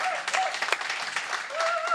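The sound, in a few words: audience applause for Deborah and Cynthia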